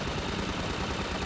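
Dense, continuous gunfire from the video game Half-Life 2 fills the short burst, loud and unbroken with no talking.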